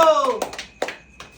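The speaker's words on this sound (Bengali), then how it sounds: "জোরে হাততালি হোক একটা" A family at home claps hands during a party game: a few scattered, sharp claps follow a brief voice, spaced irregularly and fairly close.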